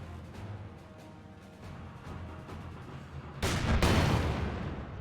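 A heavy gun booms once in the Company of Heroes 2 battle, a loud low blast with a short rumbling tail, rising out of a busy background of scattered distant battlefield noise.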